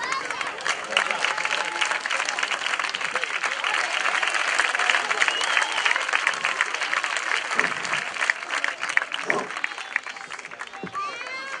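Outdoor street theatre audience in a park applauding a performer, a dense sustained wash of many hands clapping at steady loudness throughout, with crowd noise mixed in.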